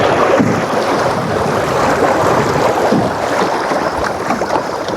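A canoe on the Niobrara River slaps through small waves where shallow water rolls off a bar into a deeper channel, giving a loud continuous wash of splashing water with heavy wind buffeting the microphone.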